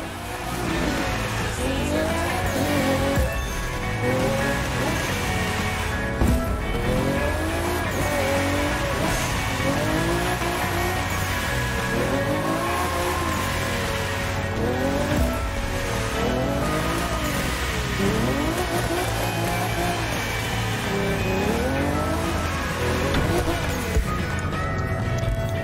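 Car engine revving hard through repeated rising and falling gear sweeps while tires squeal in a sustained drift, loud and continuous throughout, from The Crew 2 racing game.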